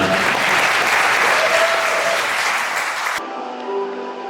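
Wedding guests applauding the newlyweds, loud sustained clapping from a crowd that cuts off sharply near the end, leaving quieter room sound with a faint tone.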